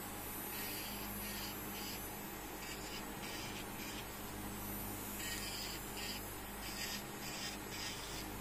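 A 120-180 grit nail file rubbing across nails in a maintenance manicure, producing soft, close rasping strokes in a repeated back-and-forth rhythm, fairly quiet and with no talking.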